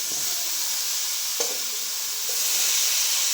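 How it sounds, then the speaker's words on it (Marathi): Hot oil sizzles and crackles steadily, with a couple of sharp spits as amaranth stems are dropped into the tempering and stirred. "फोडणी चांगली बसली आता त्याच्यामध्ये देठ टाकायचे"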